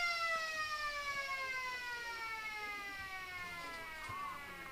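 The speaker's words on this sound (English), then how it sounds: "And the siren's gone at the end of the second term." A long, loud wailing siren sounds at an Australian rules football ground, marking the end of the second quarter in a Riverina AFL match between the Lions and Bulldogs, with steady sweeping tones and no talk.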